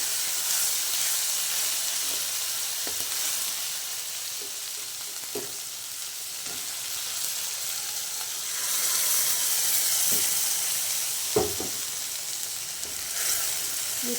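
Ground lentil batter bubbling in a pot after fried chana and urad dal, a continuous close hiss and simmer with occasional soft clicks, no voices.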